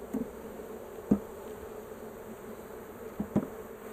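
Honey bees in an open hive being inspected after a swarm give a faint, steady hum, with a few brief, slightly louder buzzes from individual bees passing near.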